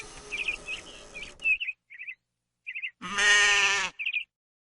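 Goat bleating in short, wavering cries, several in a row with brief gaps, loud and close, plus one long drawn-out bleat near the end and a few thin chirps.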